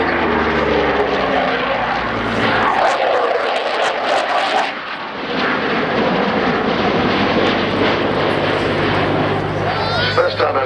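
Propeller aircraft flying opposing 360-degree turns over the field at the Cosford airshow, a loud droning engine that swells and fades as the planes pass, with a spectator talking over it.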